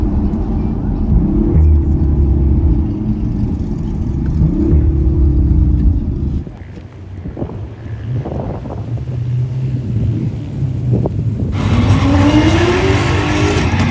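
An Audi RS5 Sportback runs a street-legal drag race against a Mustang 5.0, with a loud, steady engine roar that drops briefly, then builds again under acceleration with rising tire and drivetrain whine.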